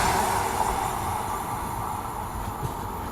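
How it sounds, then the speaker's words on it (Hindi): Two Indian express trains, the Shanti Express and the August Kranti Rajdhani Express, pass each other, heard as a steady, loud rumble of rolling wheels and carriages with no talk. "यहाँ पे अगस्त क्रांति राजधानी एक्सप्रेस के साथ में क्रॉसिंग हो रही है"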